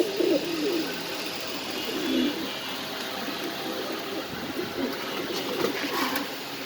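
A pair of Iceberg Damascene pigeons at a pigeon farm give soft, repeated low coos in short bursts, close by over a quiet background.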